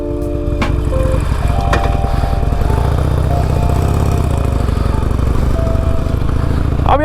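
A 2020 Harley Davidson motorcycle engine rumbles close by, with a low throbbing beat that holds steady through the whole stretch, and a brief tonal whine near the start.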